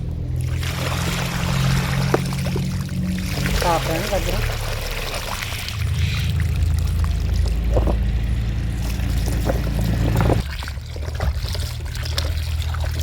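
Carrots get a second rinse at home as water pours and trickles steadily over them, a continuous near splashing with clinks, while a person talks over it.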